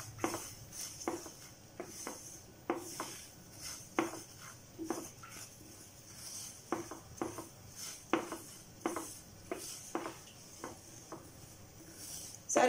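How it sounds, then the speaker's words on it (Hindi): Black and yellow mustard seeds being dry roasted in a pan, giving faint, scattered clicks and light scraping taps at an uneven rhythm over a quiet background. "राई, ब्लैक राई और येलो राई, दोनों राई को भी 1 मिनट के लिए फ्राई कर लूँगी"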